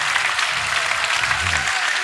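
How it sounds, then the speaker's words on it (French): A closing-forum crowd at Notre-Dame-des-Landes bursts into dense, steady applause, loud and continuous for the whole short stretch, with a low voice briefly underneath. "On peut tous s'applaudir."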